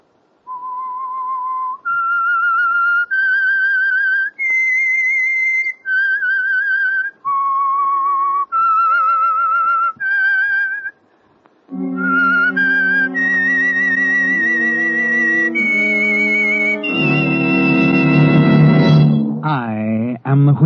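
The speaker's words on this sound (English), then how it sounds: "That whistle is your signal for the Signal Oil program" Someone whistles a radio show theme signal as a series of sustained, clear melodic notes with short breaks. An orchestral passage follows and builds into a loud swell.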